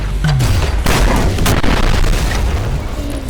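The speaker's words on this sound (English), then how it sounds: "Here I started to experiment with the rocket launcher, going for flashier kills, like this one." Rocket launcher blasts in the fast shooter ULTRAKILL come as several heavy booms over a few seconds, with rushing whooshes and busy combat noise and no voices.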